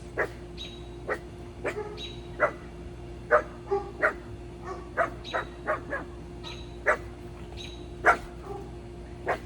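A dog barks repeatedly in short, separate bursts, fairly near, during a hot vinyasa yoga class held at home. Faint yips and whimpers come between the barks, with no voices.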